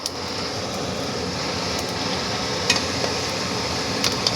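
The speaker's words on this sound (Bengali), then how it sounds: "পাঁচফোড়ন শুকনো লঙ্কাটা একটু ভাজা হয়ে গেলে" Dried red chillies and panch phoron frying in a little oil for a Bengali panchmishali torkari, a steady close crackling sizzle that runs throughout with a few faint clinks of utensils.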